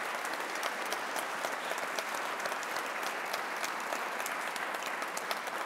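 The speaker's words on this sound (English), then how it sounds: "If you would join me in a final round of applause" An audience at a university Constitution Day lecture gives a final round of applause, a dense, even wash of many hands clapping that holds steady throughout.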